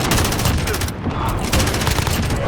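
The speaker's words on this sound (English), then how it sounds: "this MG34 is really good" An MG34 machine gun fires in sustained, rapid, loud bursts in Call of Duty Modern Warfare, with a brief gap near the middle and dense background game noise throughout.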